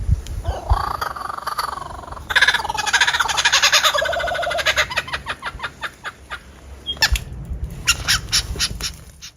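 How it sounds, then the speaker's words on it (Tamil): A loud, varied lyrebird call with squawks, warbles and rapid repeated notes, shifting patterns across several seconds, close and with no talking. "இந்த பறவை இதற்காக ஒலி எழுப்ப துவக்கினால் குறைந்தது நாலு மணி நேரம் விடாமல் சப்தித்து கொண்டே இருக்குமாம்"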